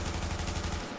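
Rapid automatic SMG fire from a purple AUG in The Division, a dense, steady burst of close, loud shots lasting the full second and cutting off at the very end.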